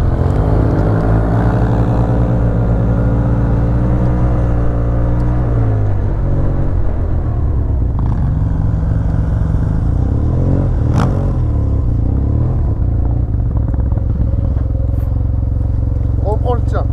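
Close, loud idle and revving of a 2015 Yamaha TMAX 530 scooter fitted with a full Malossi kit, a deep steady engine rumble that rises and falls with throttle blips, while people talk nearby.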